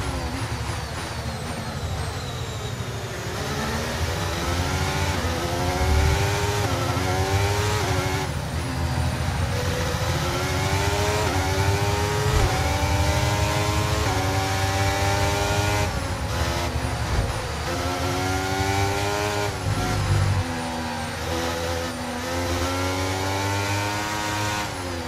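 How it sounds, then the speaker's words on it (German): An F1 car in a PS5 racing game at the 2024 Miami Grand Prix screams through rising gear-by-gear revs, loud and continuous, with repeated upshifts over a low engine drone. "Drück noch mal kräftig aufs Gas."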